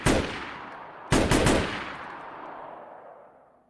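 A Garand battle rifle fires in the DayZ Fallout mod video game: one sharp shot, then a quick cluster of two or three loud reports about a second later, each trailing into a long fading echo with no talk.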